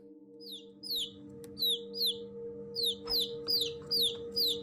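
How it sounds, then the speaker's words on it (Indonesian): Baby chicks peep again and again in bright, high, falling chirps, several overlapping in quick bursts over a steady low hum. "langsung terdengar suara anak ayam"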